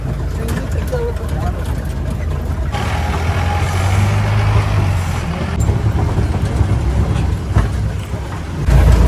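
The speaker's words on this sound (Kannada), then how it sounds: "ವೆಹಿಕಲ್ ಶಬ್ದ ಅಲ್ವಾ, ಹಂಗಾಗಿ ಜಾಸ್ತಿ ಸೌಂಡ್ ಕೇಳ್ತಲ್ಲ" Heavy vehicles such as trucks and buses rumble and hiss with air brakes on a steep, badly broken hill-station road, a loud steady traffic drone with a voice talking over it.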